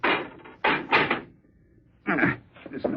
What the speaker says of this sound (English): Door's not that heavy, Mr. Lockman.